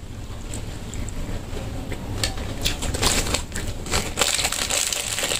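Gusty wind blowing through an open door rushes and roars, rising and falling in loud broad-band bursts with no voices.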